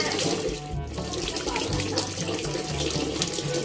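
Water pours steadily from a tap fed by a mountain river, a loud, close, continuous splashing rush with no break.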